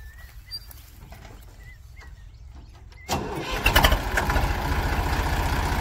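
A farm harvesting machine's engine cranks and catches after about three seconds of quiet outdoor ambience with birds chirping, then settles into a loud, steady rumbling run close by.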